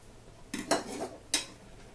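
A utensil stirs duck liver pasta in a pan, a few quick metallic scrapes and clinks in short bursts, close and clear over a quiet background.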